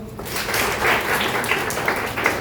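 Schoolchildren clapping in a classroom at a higher secondary school in Indore, a dense, fairly loud burst of applause sustained throughout.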